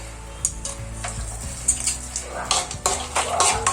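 Raisins and cashews frying in ghee for Kerala kesari, a soft sizzle broken by repeated close spoon taps and scrapes against the pan.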